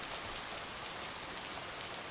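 Steady rain pours down in a game setting from Bonfire, a continuous hiss of drops on surfaces with no voices, even and moderately quiet throughout.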